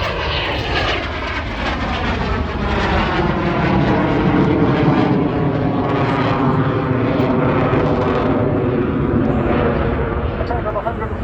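A BAC Strikemaster jet trainer flies a solo display at the Southport airshow in 2024, giving a loud, continuous roar that swells and holds throughout, with a voice faintly underneath.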